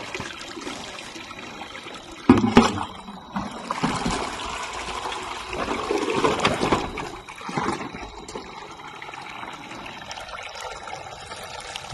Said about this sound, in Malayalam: മുകളിലേക്ക് വെള്ളം കയറാത്തതുകൊണ്ട് ബക്കറ്റിൽ കോരി നിറയ്ക്കും